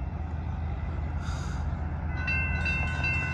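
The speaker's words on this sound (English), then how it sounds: "this is Amtrak Capital Corridor train 527" An Amtrak Capital Corridor passenger train with a 2005 F59PHI locomotive passing in San Leandro, California, a loud steady rumble with whistling, squealing tones from the rails and wheels building toward the end.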